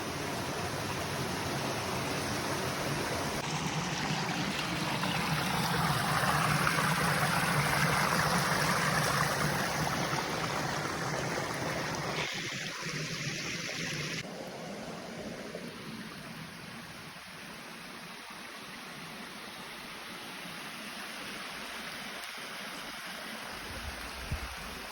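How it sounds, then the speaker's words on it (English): A small cascade of running water beside a rock shelter in far north Queensland, a steady broadband rush that swells slightly, then eases and thins later on, heard alone with no talk. "I've just come to a little cascade here"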